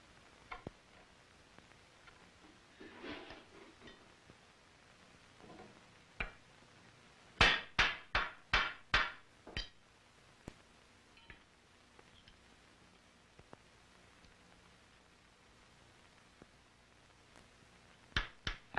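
A gunsmith at the Williamsburg gun shop roughs out a rifle barrel channel in a wooden stock with round gouges. Sharp wooden knocks come in scattered taps, then a quick rapid burst, then a few more late taps.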